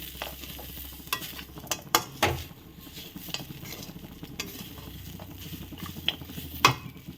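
Chili powder and ground coriander being stirred into a taro dish in a hot pan: a steady close sizzle of frying with repeated scraping strokes and light clinks of the spoon against the pan.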